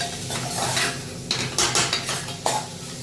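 A kantola (spiny gourd) vegetable dish stirred in a pan, with a spoon scraping and clinking against the metal over a soft sizzle, several distinct knocks, close and without talk.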